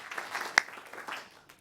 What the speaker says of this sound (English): So I want to give you guys another applause.